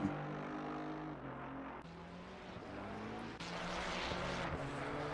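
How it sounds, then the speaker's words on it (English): A race car engine roars steadily in Assetto Corsa Competizione during a race at Imola, a loud sustained drone with harmonic pitch shifts and surges as it works through gears. "I love that sound of that engine. Roaring."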